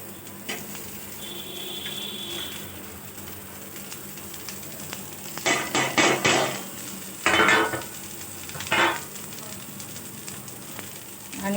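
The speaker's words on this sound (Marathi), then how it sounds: "आणि त्याच तव्यावर मी हा मसाला भाजू राहिले" Onion and masala fry on an iron tawa with a soft steady sizzle, broken by several loud scraping bursts of stirring near the end.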